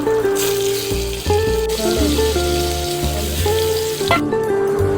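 Pointed gourd (potol) frying in oil in a pan makes a continuous, close sizzle with shifting bubbling and spitting over several seconds.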